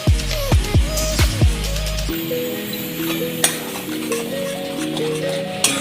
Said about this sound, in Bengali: ভালো করে একটু মশলাটা কষিয়ে নেব।